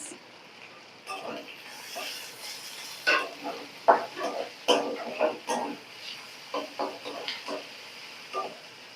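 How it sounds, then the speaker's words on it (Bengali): Carrot frying in a pan with onion, turmeric and salt, a steady close sizzle broken by repeated spatula scrapes and stirring clatters throughout. "আমি পেঁয়াজ, হলুদ, লবণ দিয়ে গাজরটাকে একটু ভেজে নিচ্ছি"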